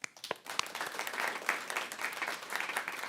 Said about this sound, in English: if you think Trisha is our fibber, clap your hands.